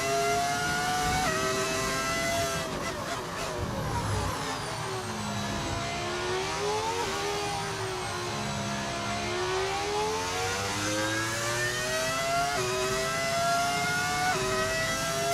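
Racing car with a V10 engine and modded engine sound in the F1 25 video game, revving loudly and continuously with rising and falling pitch through gear changes, alone without talk.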